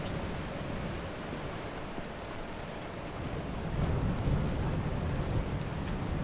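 Coastal waves wash steadily in Dear Esther, a broad, soft surf roar that swells a little louder partway through, with no voices over it.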